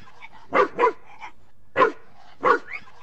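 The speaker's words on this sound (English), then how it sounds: "Now we have the barking sound in the video of a barking dog" A dog barks several times in short, sharp bursts, a quick pair followed by two more spaced barks, fairly close and clear.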